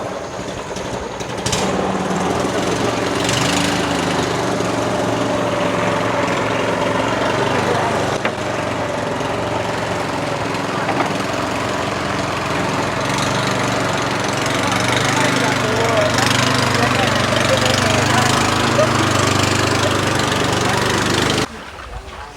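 A small motor boat engine drones continuously at close range, a steady buzzing hum that holds for about twenty seconds before cutting off abruptly.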